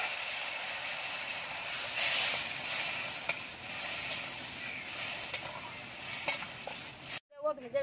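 Malabar spinach going into hot masala in a pan, with a loud, continuous frying sizzle and hiss and occasional stirring scrapes, cutting off abruptly near the end, with no voices.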